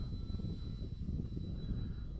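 Durafly Ugly Stick RC model plane flying on a windy day, its steady engine drone held at a fairly constant level throughout, with wind rumble underneath and no talk.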